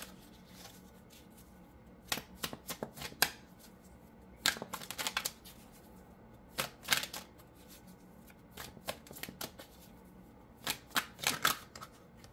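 Tarot cards being shuffled by hand, sharp riffling bursts in several separate runs with quiet pauses between them, close and fairly soft, with no talking.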